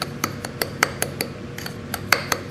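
Spoon stirring sugar and cornstarch in a medium bowl for a peach pie filling, a series of bright, regular clinks against the bowl in quick rhythm, close and clear with no talk.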